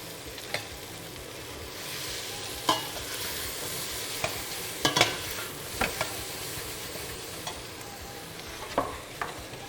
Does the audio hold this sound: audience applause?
no